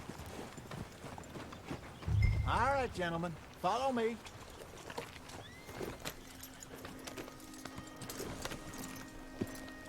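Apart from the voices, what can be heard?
horse hooves clip-clopping, from video game Red Dead Redemption II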